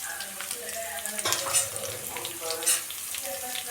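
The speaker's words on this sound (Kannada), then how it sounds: "ಇದು ಫ್ರೈ ಮಾಡ್ಕೊಳ್ಳೋಣ ಇವಾಗ ಚೆನ್ನಾಗಿ ಕೆಂಪಗಾಗಂಟ" Onions, curry leaves, mustard seeds and dried red chili fry in a pan, a moderate crackling sizzle with a couple of louder spatula scrapes.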